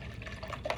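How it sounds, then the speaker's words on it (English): A paintbrush carrying acrylic paint is rinsed in a water cup, making a short, soft burst of swishing and light splashing close by. "I'm going to rinse that out of my brush"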